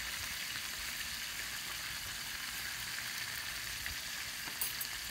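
Fish frying in a pan gives a steady, fairly quiet hiss and crackle of hot oil that runs evenly throughout, with a few small pops near the end and no voices.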